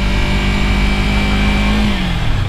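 A 650 motorcycle engine revs loud and close, a sustained rising roar that holds and then drops in pitch toward the end.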